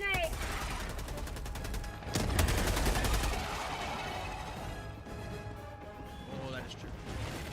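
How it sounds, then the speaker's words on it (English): A thrown grenade goes off with a loud blast partway through, amid ongoing automatic gunfire and chaotic combat noise in a video game, with voices talking over it. "Throwing grenade!"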